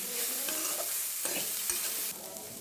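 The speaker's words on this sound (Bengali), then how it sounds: "এবার কিশমিশগুলো দিয়ে দিলাম, মিশিয়ে নিচ্ছি।" Semiya upma stirred in a pan after raisins go in, giving continuous close scraping and stirring over a soft sizzle, with a few louder knocks of the spoon against the pan.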